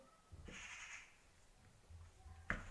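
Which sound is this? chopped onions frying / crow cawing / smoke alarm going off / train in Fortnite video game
crow cawing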